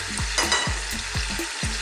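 Finely chopped garlic fries over medium heat with a bright sizzle while a utensil scrapes and knocks against the pan in quick repeated strokes, close up and without talking.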